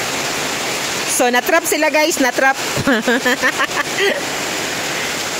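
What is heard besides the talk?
heavy rain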